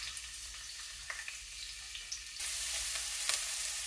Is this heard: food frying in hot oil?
yes